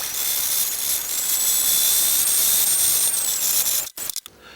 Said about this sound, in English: I'll whisk it till it's kind of just a bit stiffer and it's just a nice soft thick double cream